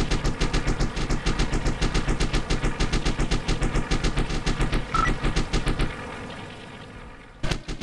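Sustained 7.7 mm machine-gun fire in the Wings of Duty flight game during a B-26 dogfight: loud, rapid evenly spaced bursts for about six seconds, then fading, with a final sharp shot near the end.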